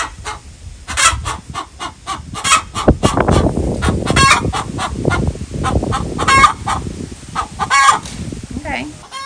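Homestead chickens cluck in a dense, busy chorus of rapid calls at close range, with a rooster crowing through it and continuous squawks overlapping throughout.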